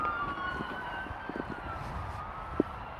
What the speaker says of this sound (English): All right, so we are hearing sirens.